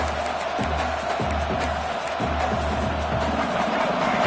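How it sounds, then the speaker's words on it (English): Stadium crowd roar in a college football video game, a constant wash of cheering under a low, repeated pulsing drone, loud and steady throughout. "This crowd trying to make life miserable for this offense."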